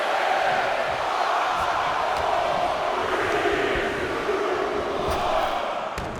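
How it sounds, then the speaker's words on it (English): A wrestling video game crowd in WWE 2K25 counts down together, a dense, continuous roar of many voices at steady volume throughout. "The crowd is counting it down."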